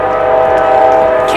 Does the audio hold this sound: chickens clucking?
no